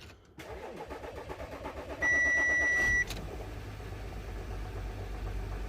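A 2007 Audi A8 with an air suspension fault cranks with a loud steady whir for about a second, then its engine catches and settles into a low, even idle close by.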